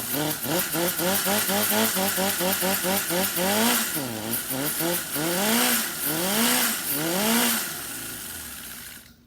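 A small electric starter, an airsoft rifle motor, cranks a Cison 175 model engine with glow plugs and a Traxxas carburetor on 10% nitro fuel, giving rapid repeated whirring pulses that rise and fall in pitch, loud and close throughout.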